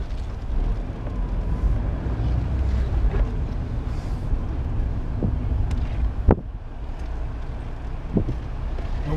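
A 1999 Mazda MX-5 NB with the 1.6-litre 110-horsepower engine cruises along, its low engine drone buried under heavy wind and road rumble, with a couple of sharp knocks standing out briefly.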